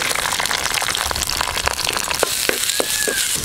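Chopped big onion hitting hot oil with popped mustard seeds, a steady broadband sizzle with scattered crackles and pops near the end, close and continuous, no talking.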